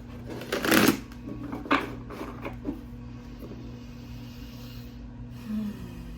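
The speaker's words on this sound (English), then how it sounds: "Let's do one more good shuffle." A deck of cards being shuffled up close, a couple of quick riffling bursts followed by softer handling and a low steady hum underneath.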